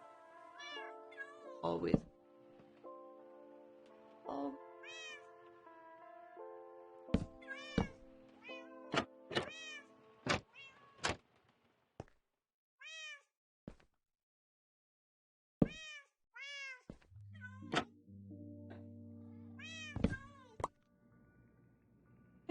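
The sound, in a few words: cat meowing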